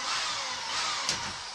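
A power drill bores steadily into a wall during upstairs hallway redecorating, a continuous close, moderately loud whirring grind with a brief sharper spike near the end and no talk.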